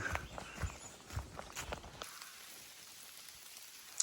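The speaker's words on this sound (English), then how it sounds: "so it's trying to finish raining. It just downpoured on us." Footsteps crunch along a wet Appalachian Trail path through steady rain after a downpour for about two seconds, then stop, leaving a soft, even patter of rain.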